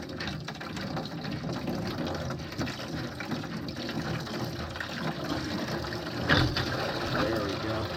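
Rusty, sludgy water draining from a low point of an old original steam pipe, a steady gushing flow with gurgling throughout, someone talking over it, and a brief knock near the end.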